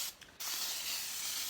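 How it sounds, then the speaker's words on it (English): Cooking oil spray pressed onto a casserole dish, a brief sputter followed by a continuous close, steady aerosol hiss lasting over a second, alone without talk. "So I'm going to start by spraying this casserole dish."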